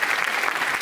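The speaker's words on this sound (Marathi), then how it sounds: "जरा एकदा जोरदार टाळ्या तुम्हा सगळ्यांसाठी" An audience at a cultural felicitation ceremony claps loudly in a dense burst of applause, with no voices over it.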